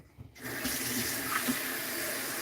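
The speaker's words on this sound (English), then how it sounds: "I gotta fill up Susa's water bowl real quick." Water from a tap runs steadily into a pet's water bowl, starting abruptly after a brief moment and continuing as a close, even gushing stream.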